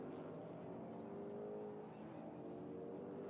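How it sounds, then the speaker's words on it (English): A Chevrolet Camaro race car in a EuroV8 Series race at Vallelunga circuit drives by with a steady, loud engine roar and sustained high revs, continuous and unbroken with no speech. "And Cini tools around with the Camaro"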